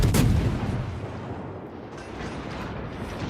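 A Worcester artillery gun in a tank video game fires one loud, booming shot at the start, and a long rumbling roar fades slowly behind it.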